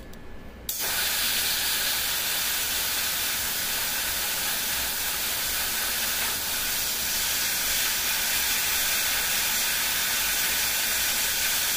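Airbrush spraying paint onto a tabletop miniature, a continuous close, even hiss that starts suddenly and runs steadily to the end.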